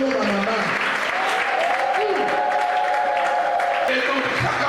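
A church congregation at a Pentecost service applauds in a steady, loud wash of clapping, with a voice and a few tonal cries rising above the crowd noise.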